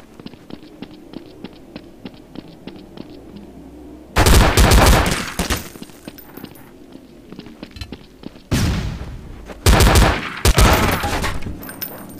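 Bursts of rapid gunfire in Counter-Strike: Source, several loud volleys around faint background game sounds, with a quieter stretch of distant shots between the heavy clusters.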